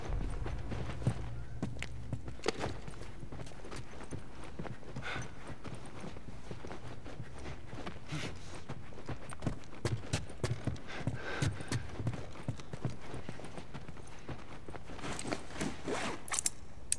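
Horse hooves clip-clop in The Last of Us Remastered video game, with irregular close hoof knocks and scuffs over a quiet ambient background, denser near the end.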